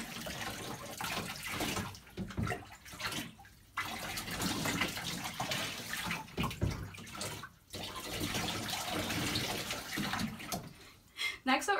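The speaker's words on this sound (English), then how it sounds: "we're going to grab our cup and we're going to pour the water over him" Water is poured from a cup over a dog named Nova during a bath, a steady close splashing and trickling that runs almost without a break, with a few short pauses between pours.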